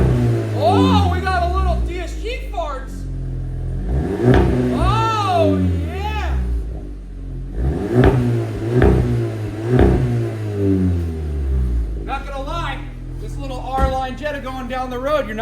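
A VW Jetta R-Line with a 1.4-liter turbocharged engine and a Borla catback exhaust revs repeatedly, rising and falling in pitch in several bursts, close and loud, with people talking excitedly over it.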